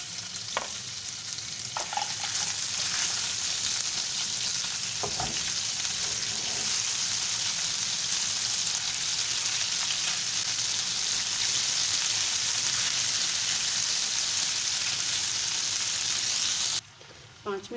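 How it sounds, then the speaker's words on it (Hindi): Chicken cubes sizzle steadily in a pan with garlic, a loud continuous frying hiss with occasional stirring clinks, close up and without talk. "पाँच मिनट हो चुके हैं हमें अपने चिकन को फ्राई करते हुए।"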